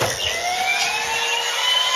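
Toy ambulance sounding its siren, a steady electronic wail with sliding tones that holds at an even, moderately loud level throughout at close range.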